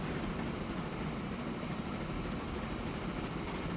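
A steady, dense rumble of a train rolling along the tracks in the video game Transport Fever 2, continuous and unbroken, with no voices.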